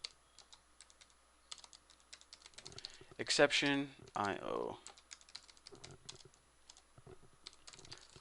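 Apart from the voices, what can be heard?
typing on a computer keyboard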